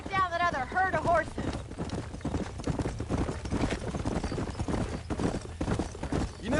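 Horse hooves clip-clop steadily in the video game Red Dead Redemption, a brisk, continuous trotting rhythm heard close and loud, opening with a short whinny, with game dialogue running over the hoofbeats.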